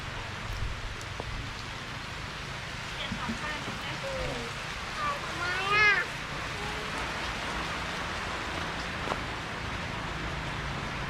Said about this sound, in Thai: มีวันนี้ฝนตกนะครับ